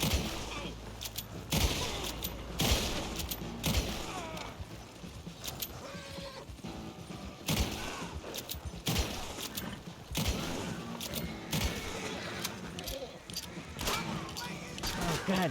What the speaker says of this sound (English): Oh no, they're shooting at us.